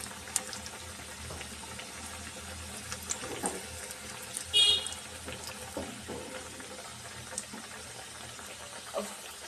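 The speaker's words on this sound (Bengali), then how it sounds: "এখন প্যাটিসগুলো আমি এর মাঝে দিয়ে দেব। একটা একটা করে ভেজে নিব।" Patties frying one at a time in hot oil in a pan, a steady faint sizzle running throughout with a few soft clicks and bumps and a brief louder spatter midway.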